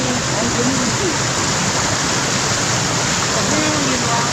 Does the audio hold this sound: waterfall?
yes